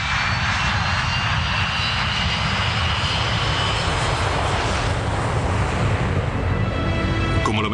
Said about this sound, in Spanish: el vuelo 2937 de Bashkirian Airlines despega de Moscú